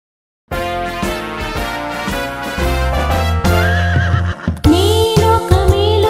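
A horse neighs within a Telugu animated nursery rhyme about a thoroughbred racehorse, its whinny rising over a loud, steady bed of music for several seconds.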